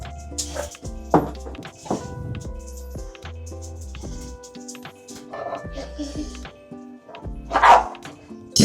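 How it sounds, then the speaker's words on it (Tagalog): Dog barking eagerly while waiting to be fed, several short yips and barks scattered across the clip, close by and mixed with household noise and a person talking. "Tatahol-tahol pa yan, tignan nyo."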